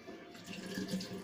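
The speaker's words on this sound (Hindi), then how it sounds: "इसके बाद हमने टैप को खोला" Water runs steadily from an opened tap during handwashing, a continuous close-up splashing and hissing stream with no talking.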